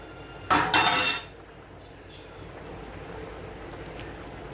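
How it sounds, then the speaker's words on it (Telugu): A spoon stirs and scrapes a pot of yogurt chicken curry in one short, clattering burst near the start. Quiet kitchen background with faint clinks follows. "ఇట్లా మధ్య మధ্యన కలుపుతూ ఉండాలి"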